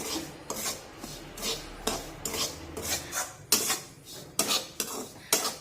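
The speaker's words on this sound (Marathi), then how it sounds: "रवा पिठी साखरेमध्ये अगदी व्यवस्थित मिक्स करून घ्यायचा" Semolina (rava) stirred into powdered sugar in a bowl for rava ladoo, a spoon scraping and rasping against the dish in steady, close strokes roughly every half second, with no talking.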